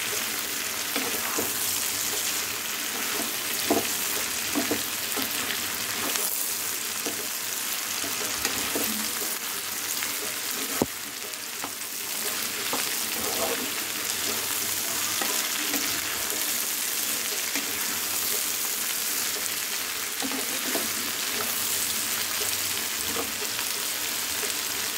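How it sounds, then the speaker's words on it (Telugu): Raw banana (aratikaya) pieces frying in oil over a low flame make a continuous, even crackling sizzle throughout, with occasional light pops and faint stirring knocks, close and steady with no speech. "ఈ అరటికాయ ఊరికనే ఉడికిపోద్ది ఆయిల్లో"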